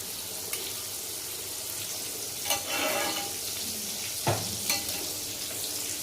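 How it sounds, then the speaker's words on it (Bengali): Pumpkin paratha frying in melted butter in a pan makes a continuous soft sizzle, with a few brief clinks and scrapes of a utensil against the pan partway through. "এবার আমরা একটা একটা করে পরোটা এর মধ্যে ভেজে নেব।"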